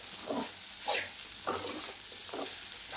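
Soaked sabudana mixed with crushed peanut powder being stirred in a pan over low heat, a soft steady sizzle under four or five scraping spoon strokes spaced out, close and fairly quiet.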